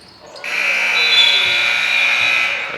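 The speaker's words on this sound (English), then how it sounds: "It's going to be Hogan throwing it up at the buzzer." Basketball game buzzer sounding at the end of the first quarter in a high school gymnasium, a loud sustained electronic tone holding for over two seconds with faint crowd noise beneath.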